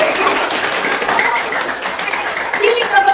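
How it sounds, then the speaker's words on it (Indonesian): Students in a lecture-room class give a classmate a short round of clapping, brisk and close, with voices mixed in. "tepuk tangan buat teman kita"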